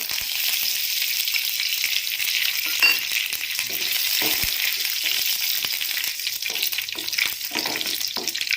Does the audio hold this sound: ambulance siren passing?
no